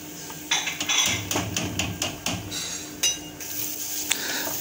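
A metal spoon scrapes and clanks against a cooking pot as soaked rice is stirred into the soup for Kabuli pulao in a village kitchen, with irregular knocks and clinks, some sharp, recurring every fraction of a second.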